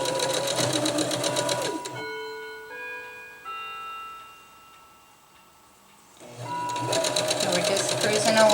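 A sewing machine runs in rapid stitching bursts while hemming a hammock bug net. It drops out briefly to near quiet, then starts again loud and close with a dense mechanical chatter, and a voice speaks over it.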